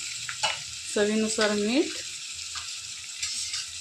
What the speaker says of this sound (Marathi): आता कांदा आपण व्यवस्थित तळून घेऊ।